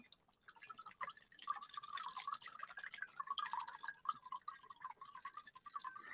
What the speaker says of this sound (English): all I've got to do is make a little shake. And I can pour that in.